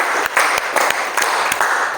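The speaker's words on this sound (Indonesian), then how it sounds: "Ya, beri tepuk tangan buat kawan kita" A classroom group claps for a student, a short burst of brisk, uneven hand claps from several people close by.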